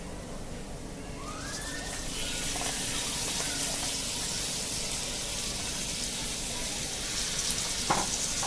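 Liver pieces drop into browned fried onions in a hot pan and break into a loud, steady hiss of sizzling that holds for several seconds, with a faint clink and no talking.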